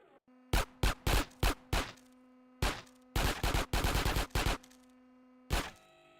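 Pistol gunfire in GTA San Andreas: loud, close bursts of rapid shots in uneven clusters with short gaps between volleys and a low steady hum underneath, no voices.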